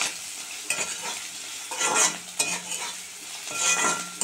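Ground chilli, cumin and coriander powder frying in a pan for Bengali lau chingri, with repeated stirring scrapes and a steady sizzle, close and moderately loud, no voices.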